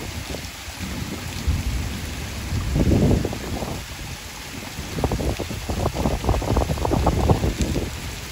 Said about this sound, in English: I didn't even see any lightning, a little thunder.